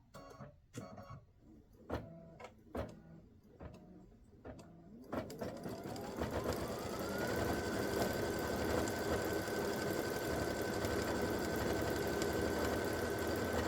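A computerized quilting machine stitching an edge-to-edge double loop design starts with a series of separate clacks, then ramps up into a steady, loud mechanical whir that holds to the end.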